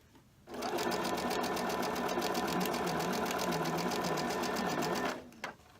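A sewing machine stitches a beginner quilt block in one continuous fast run of about five seconds, a close, steady mechanical whir that starts and stops abruptly.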